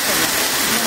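Heavy rain pours outside near an underground river, a dense, steady roar of water with no pauses, loud and close throughout.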